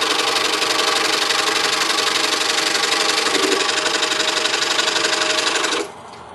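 A scroll saw buzzes steadily and loudly with a rapid, even chatter as it cuts through a wooden stacked star tree piece, then winds down near the end.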